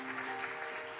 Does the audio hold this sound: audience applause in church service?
yes